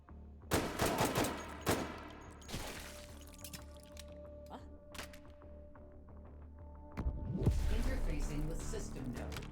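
Rapid handgun shots ring out in the H3VR virtual reality shooter, several sharp bursts in quick succession early on and again near the end, with mechanical clicks and handling noises between them.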